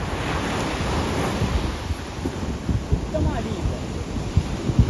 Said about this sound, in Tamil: இந்த கடலில் பாருங்க இப்படி அழியணும் ஆழமான மிகவும் ஆழமான கடல் பகுதி